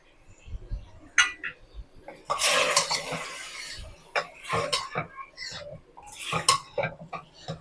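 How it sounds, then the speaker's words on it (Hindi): Spices including coriander powder, red chilli and turmeric are roasted with mutton in a pot, heard as intermittent scraping and clanking of a utensil with bursts of sizzling and stirring, some quiet voice sounds in between. "मसालों को भी भून लेते हैं गोश्त के साथ।"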